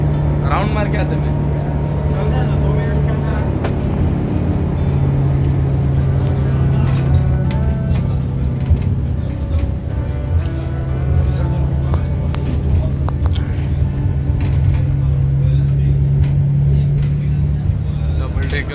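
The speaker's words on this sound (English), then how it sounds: "we are sitting again in the double-decker bus" Steady engine drone and road rumble fill the upper deck of an open-top double-decker bus riding through Hawally, Kuwait, with a constant low hum beneath a voice talking throughout.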